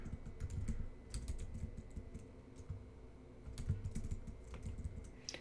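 Quiet, close clatter of keys as a command is typed on a computer keyboard in a Linux terminal, irregular bursts of taps with short pauses between them.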